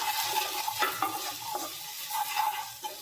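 Tomato stirred and fried over a low gas flame for a chicken hot and sour soup, a steady broadband sizzle with occasional scraping stir strokes, close and continuous with no voices.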